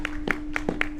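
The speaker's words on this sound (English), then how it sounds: "another round of applause from at least 2 people" A couple of people clap sparsely during a Drake Passage voyage, about five separate claps scattered over a second, fairly close and moderately loud, over a steady low mechanical hum.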